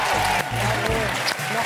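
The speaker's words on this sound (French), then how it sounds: "On les applaudit très fort" A studio audience at a French television show claps loudly and continuously, a dense wash of applause heard close with a voice speaking underneath.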